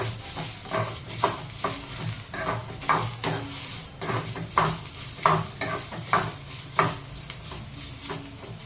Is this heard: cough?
no